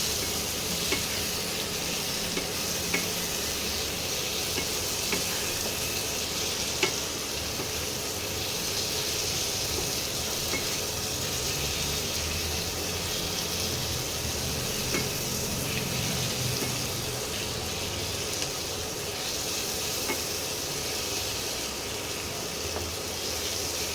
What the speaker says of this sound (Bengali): এই মশলাগুলোকে একসঙ্গে কষাতে হবে।